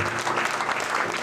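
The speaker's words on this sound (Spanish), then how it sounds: "Un aplauso." Applause from a congregation at a church thanksgiving service in Apopa, a dense steady patter of clapping filling the short moment without a break.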